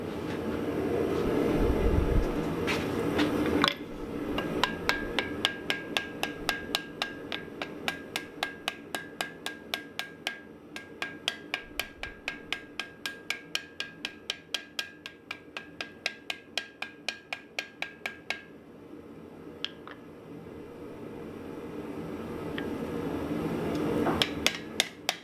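Steady hammer blows ring out on hot steel being forge welded into a fireplace ash shovel, struck in a long even series of sharp metallic hits for about fifteen seconds. A few scattered strikes follow, with rasping and rubbing between them.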